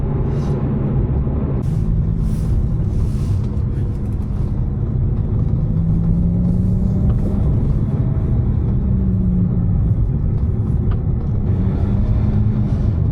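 A Ferrari F430 in sport mode drives along with a steady low engine rumble and road noise from inside the cabin, the engine note rising and falling gently through the drive.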